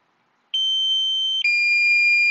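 Low battery warning from a DJI Mini 2 drone controller: two loud sustained electronic tones, the first higher and the second lower, sounding back to back after a moment of silence.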